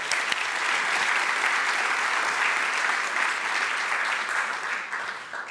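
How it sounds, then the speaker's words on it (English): Graduation audience at an educational leadership ceremony applauding, a dense, steady wash of clapping that holds loud throughout and tapers slightly at the end. "Let's give John a round of applause."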